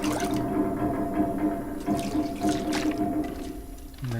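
Water being collected in a hydro dam setting within a video game, a steady gurgling, splashing fill that runs continuously at close range with a few drips and sloshes, no voices over it.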